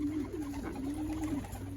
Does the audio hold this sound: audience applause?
no